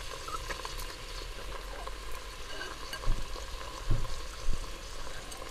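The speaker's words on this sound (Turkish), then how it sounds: "Ve pirinçlerimin kavrulmasını sağlayacağım." Soaked rice toasts in butter in a pot for a chickpea pilaf, giving a steady close sizzle with a few soft stirring knocks and scrapes toward the end.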